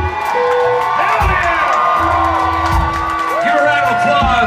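A live crowd at an indoor show cheers, whoops and applauds for military service members, loud and sustained, with a voice shouting over the noise.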